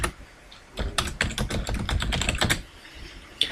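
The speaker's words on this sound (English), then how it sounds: "I'll just type my text" Fingers type on a computer keyboard nearby, with a quick run of clicking keystrokes that trails off into a pause and one final tap.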